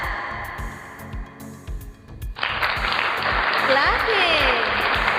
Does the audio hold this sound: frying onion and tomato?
no